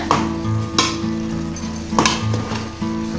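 Mushroom masala sizzles steadily in a pan, with a utensil scraping and stirring through it in a few distinct strokes over the constant frying hiss.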